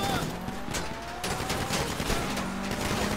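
Grand Theft Auto V gunfire during a heist crackles in rapid bursts of sharp shots, mixed with engine hum from a car being driven, moderately loud and fairly close.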